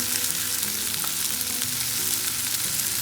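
Goat brain sizzling in hot oil in a pan as it roasts on one side before being turned, a loud, dense, continuous crackle close by with no voices.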